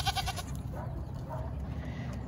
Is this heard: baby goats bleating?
yes